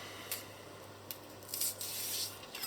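A knife peels strips from a rhubarb stalk, close and fairly quiet, with short fibrous tearing and scraping strokes, a few sharper rips and a longer drawn-out peel near the end.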